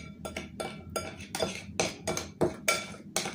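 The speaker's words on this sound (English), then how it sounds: "make sure and scrape the sides of the bowl with your spatula or your spoon" A spatula scraping around the sides of a mixing bowl of tiramisu mixture, eight or so rhythmic scrapes in quick succession, close and fairly loud, with light clinks against the bowl.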